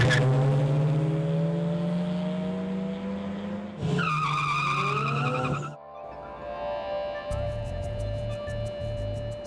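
Cars race on a street along Macapagal Boulevard in Pasay at night, engines roaring and revving loudly up close, with sharp tire squeals and skidding cutting in and shifting engine tones fading toward the end.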